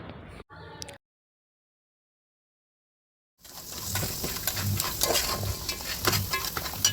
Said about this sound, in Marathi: आता त्यामध्ये आपण आंगडे टाकून घेऊया व छान असं परतवून घेऊया